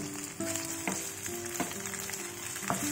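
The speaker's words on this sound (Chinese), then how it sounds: "锅中下少许油，把火腿肠翻炒一下" Diced ham sausage stir-fried in a little oil in a wok gives a steady close sizzle, with a few sharp clacks of the spatula against the pan.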